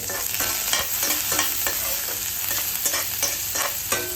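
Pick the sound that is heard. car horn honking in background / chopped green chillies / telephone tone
chopped green chillies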